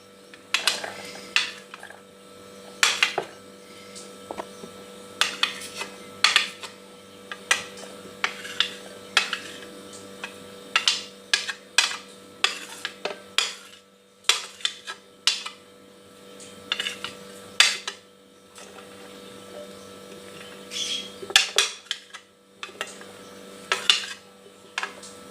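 A spoon stirs chopped vegetables into an egg batter in a bowl, making repeated light clinks and scrapes against the dish. The taps come in uneven bursts with no talking.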